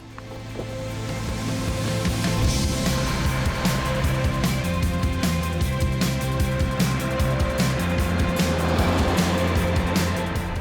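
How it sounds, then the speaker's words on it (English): 2024 Subaru Solterra electric SUV driving on the road, a steady broad rush of tire and wind noise with a faint low hum, continuous and moderately loud, with no talking. "let's take the Solterra for a drive"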